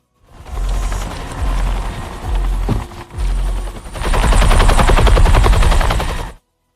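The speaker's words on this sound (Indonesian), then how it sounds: "Mereka pun pergi dengan helikopter yang sudah disiapkan di luar." A helicopter flies with bursts of gunfire in a film scene: loud rhythmic rotor thumping broken by rapid machine-gun volleys, ending in a sustained dense burst before cutting off.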